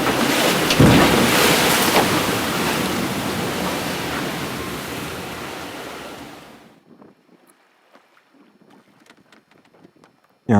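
Broadband wash of sea and wind as a sailboat beats upwind into head seas, loud and continuous for about six seconds, then dropping abruptly to faint wind and scattered splashes.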